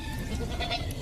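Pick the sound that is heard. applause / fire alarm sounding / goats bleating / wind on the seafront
goats bleating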